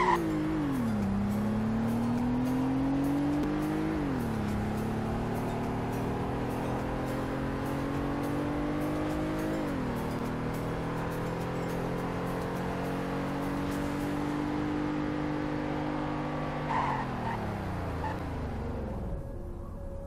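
An SUV in the Roblox game Greenville runs a 0 to 100 acceleration and braking test, its engine droning steadily and climbing through gear shifts before the pitch drops sharply as it brakes, loud and continuous with no talking.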